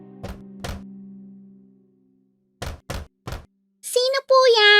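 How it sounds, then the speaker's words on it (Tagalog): Knocking on a door of a house, two sharp raps, a pause, then three more, close and crisp over a low hum, followed by a voice speaking. "lumapit siya sa bahay at kumatok sa pinto"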